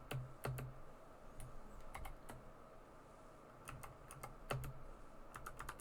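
Computer keyboard typing during a Minetest creative session, with quick bursts of clicky keystrokes spaced across the clip, close and fairly quiet, with no voices.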